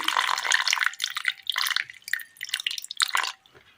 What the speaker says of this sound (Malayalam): ഒരൽപ്പം വെള്ളം ഒഴിച്ച് കൊടുക്കാം.